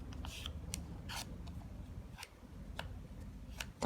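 A paper circle folded over and creased flat, giving soft close-up rustles and a scattering of crisp little snaps and clicks, faint and spaced irregularly with no talking.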